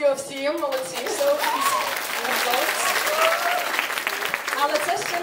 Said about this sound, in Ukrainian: Оплески всім, молодці,